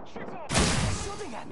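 Gunfire aimed at the player in a PS4 shooter: one loud, sharp burst of shots cracks out suddenly after a moment of quieter game sound, with voices faintly around it.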